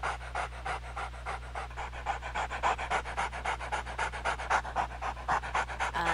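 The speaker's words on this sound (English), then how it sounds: "There's panting." Rhythmic panting from a timber wolf avatar in the Second Life game, a steady run of quick, breathy dog-like pants repeating about twice a second, close and fairly loud against a low constant hum.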